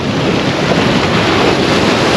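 Rough sea waves crash against the rocks of a breakwater, a loud, continuous roar of surf and spray mixed with gusting wind against the microphone, with no voices.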